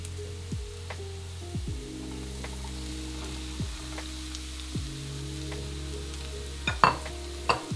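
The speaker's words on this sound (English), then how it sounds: "we're gonna fry these up until they're a beautiful vivid green" Green beans frying in a pan: a soft sizzle broken by occasional light scrapes and clicks, over a steady low humming drone.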